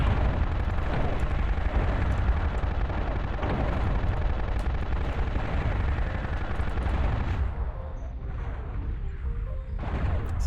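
Enemy mech blowing up in MechWarrior Online with a modified MW2-style sound set: a dense, loud barrage of booming blasts and gunfire-like bursts filling the whole stretch, easing slightly near the end, with no talking.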